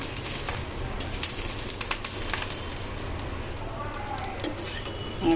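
Curry leaves fry in hot oil with a soft, constant sizzle while a spoon stirs and clinks against the pan, and quiet talk runs underneath.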